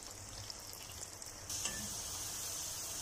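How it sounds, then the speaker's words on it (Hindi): French fries deep-frying in hot oil at home, a steady hissing bubble that grows slightly louder halfway through, heard close and alone without talking. "हमारे फ्राइज जो हैं वो फ्राई हो रहे हैं"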